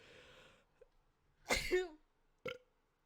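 After a faint breath, a single sharp sneeze bursts out close by, followed a second later by a shorter, quieter second burst.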